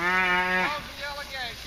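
Cattle being herded low and bellow close by, one long drawn-out moo followed by shorter, wavering calls, with faint background noise and no clear speech.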